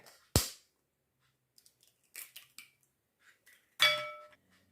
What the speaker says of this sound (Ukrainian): Перш за все, вбиваємо яйця.